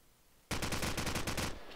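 Rapid automatic gunfire in the Counter-Strike video game, a sustained burst of about a second of evenly spaced, loud, close shots starting abruptly.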